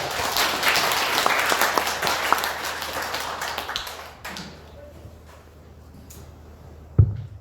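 An audience at a monthly meeting of the Daegu-Gyeongbuk Heungsadan claps for a lecturer, a dense round of applause that thins out after about four seconds, followed by a single sharp knock.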